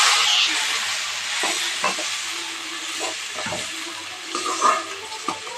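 Paste frying in a pan, a close sizzling hiss with soft stirring scrapes and occasional spattering pops, no talking.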